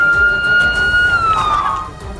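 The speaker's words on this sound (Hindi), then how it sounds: "पूरे इलाके में सायरन की आवाज भी गूंज रही थी।" Emergency sirens wail after an airstrike in Gaza, a steady high tone gliding slightly downward, heard loud under a dense wash of background noise.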